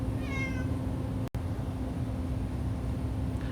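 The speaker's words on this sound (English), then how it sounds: "Sorry if you can hear my cat there." A domestic cat meows once, briefly and faintly, over steady room noise with a faint background hum.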